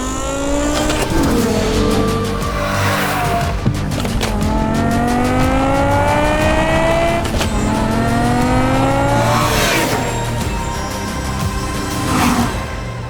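A V10 BMW M5 Touring with a manual gearbox revs hard through its gears, the engine note climbing in repeated rising sweeps between shifts, loud and close, with a brief tire chirp.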